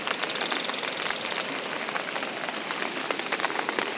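Steady rain by the Acaraú river in Sobral on a cloudy afternoon, a dense continuous hiss of drops falling on water and surfaces, even and moderately loud throughout with no voices.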